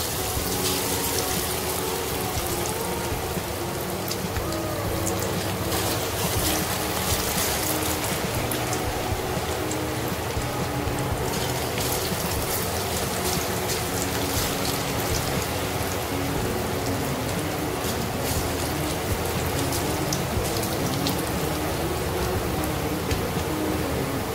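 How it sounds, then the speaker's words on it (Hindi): Pakoras deep frying in hot oil, a steady dense sizzle and crackle that continues without a break, fairly loud and close, with no voices. "अभी 5 से 7 मिनट तक हम इसको ऐसे फ्राई होने देंगे"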